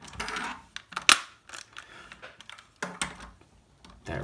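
Plastic parts of a Leader Class Optimus Prime transforming toy click and snap shut as the cab is folded down into truck mode, a series of sharp, close clicks at an irregular rhythm.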